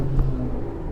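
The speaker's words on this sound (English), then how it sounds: "The Chrysler flyby sounded decent" A Chrysler car passes close by, a steady low engine rumble that swells briefly and then holds for about a second.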